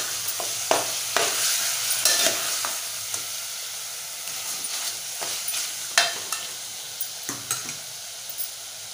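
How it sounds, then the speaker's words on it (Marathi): Spicy chicken is stirred and sautéed in a pan, a soft sizzle under repeated scraping strokes of a spoon against the metal, spaced about a second apart, with no speech. "एकदा परतून घेऊया"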